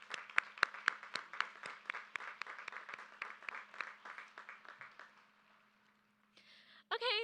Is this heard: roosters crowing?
no